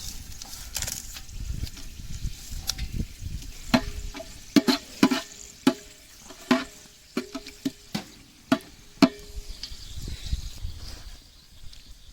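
Whole cinnamon, cloves, cardamom and bay leaf crackle in hot oil in a pot for egg biryani, with a soft steady sizzle broken by sharp clicks and scrapes as a spoon stirs them.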